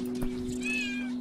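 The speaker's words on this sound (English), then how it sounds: "Duh, I can meow and stuff." A kitten meows in Paws: A Shelter 2, a single rising-and-falling mew in the clear over a steady low game hum.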